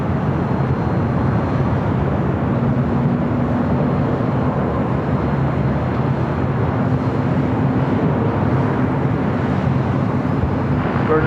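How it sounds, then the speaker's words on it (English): A Virgin Atlantic airliner arriving at LAX from London Heathrow, a steady broad jet roar that holds loud and unbroken throughout with no talk. "Flight 7 coming in from London Heathrow."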